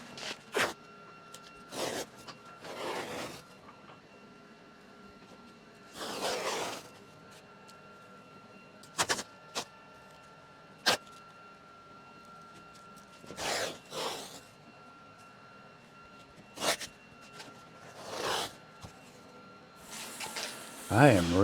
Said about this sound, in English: So let's put some tape down.